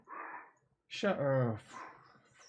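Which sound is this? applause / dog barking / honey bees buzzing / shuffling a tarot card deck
dog barking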